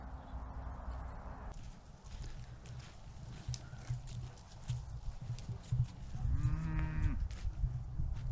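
Cattle in a field, a herd of cows with a Limousin bull, one loud close moo rising and falling midway amid rustling, shuffling outdoor noise.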